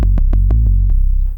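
Synthesizer bass patch recreating a song: a loud, deep sustained bass with a series of short plucky attacks stepping through a few notes, played alone.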